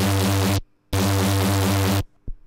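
Reese bass from a jump-up drum and bass track with an automated filter sweep that closes and reopens, heard as two loud sustained bursts with a short gap between them and no talk.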